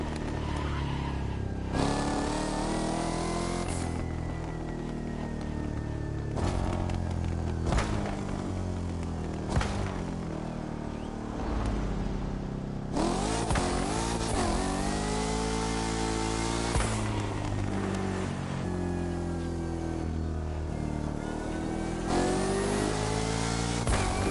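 A car in the racing game The Crew Motorfest accelerates hard, its engine note climbing through repeated gear changes with sharp drops between shifts, loud and continuous with no voices.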